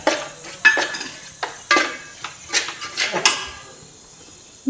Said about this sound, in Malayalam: എന്നിട്ട് ഇതെല്ലാം കൂടി ഒന്ന് മൂപ്പിച്ചെടുത്തേച്ച്